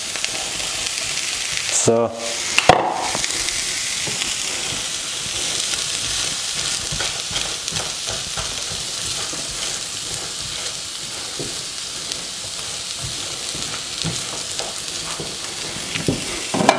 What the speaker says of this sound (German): jetzt geben wir mal die Linsen rein und jetzt die Zwiebeln